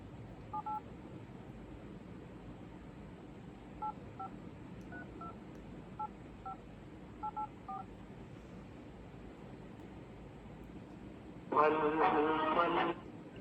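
Telephone keypad tones while placing a call: a few scattered short dual-tone beeps spread through the first eight seconds, then a louder sustained burst of tones near the end, over a quiet background hum.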